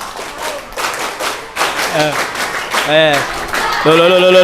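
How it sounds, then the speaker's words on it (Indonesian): A group performs a rhythmic scout clap routine during a religious study session, sharp clusters of hand claps falling in a patterned beat while voices chant along between and over the claps. "Tepuk pramuka."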